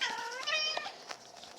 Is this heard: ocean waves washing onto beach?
no